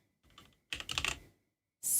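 Computer keyboard typing during a Minecraft session: a short burst of taps, then a louder cluster of quick keystrokes, a pause, and a final loud clack at the end.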